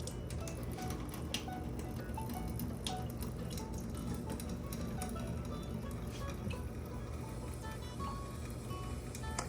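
Water runs from a kitchen sink after the valves are turned, a faint continuous splashing patter with scattered drips, heard alone without talk.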